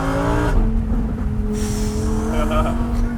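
A 2018 Lamborghini Performante engine revs hard and holds a steady, rising drone, loud and close, with no talking.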